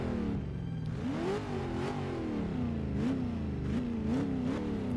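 A deep V8 car engine in Forza Motorsport 6: Apex revs steadily, its pitch climbing and dipping in repeated surges, loud and continuous with no voices.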